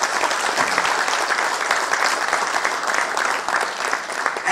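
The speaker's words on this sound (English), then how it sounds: "Give a big round of applause." Applause from an audience at a PIMA Night gala in Dubai, a full, dense round of clapping that holds steady and loud throughout with no pause.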